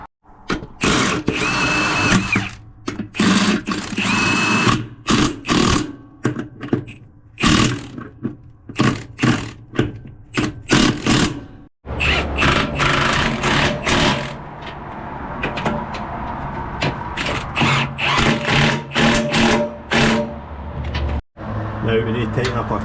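A power tool such as an impact gun rattles nuts tight on a trailer airbag at a roadside repair in the Scottish Borders, loud repeated bursts of buzzing hammering separated by short pauses, with someone talking between them.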